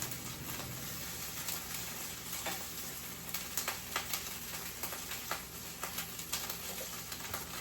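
Fried grits browning in a pan give a soft, steady sizzle with scattered sharp pops and crackles, several grouped toward the latter half, heard close but fairly quiet with no talking.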